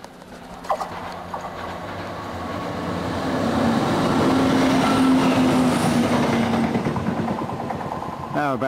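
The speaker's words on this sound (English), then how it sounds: "This is a train coming from Stansted Airport, going right through to Birmingham." Passenger train on the Stansted Airport to Birmingham service passing, a rumbling rail roar with clattering wheels that swells to a peak and then fades, with voices near the start and end.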